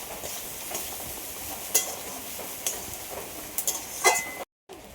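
Flattened rice (chira) being lightly stirred as it fries in a pan, with a steady soft sizzle and a few scraping clicks from the spatula before it cuts out near the end.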